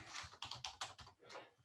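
Computer keyboard keys typed in quick bursts of clicks, a short run of taps with brief pauses between them, close and fairly quiet, while entering a search term for a QGIS plugin.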